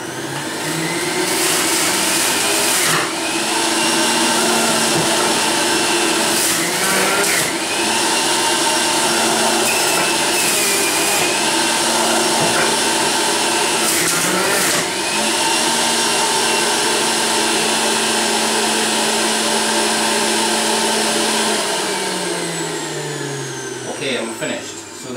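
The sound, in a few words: Breville Juice Fountain Elite juicer juicing carrots at high speed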